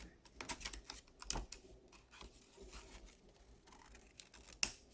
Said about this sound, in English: I'm just going to use my scissors and trim this up